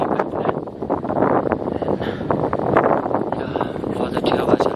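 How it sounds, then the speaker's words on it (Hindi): Wind blows across a mountain top on a Himalayan trek, a steady buffeting rush with gusty microphone noise throughout, fairly loud and close. "बहुत अच्छी हवा चल रही है"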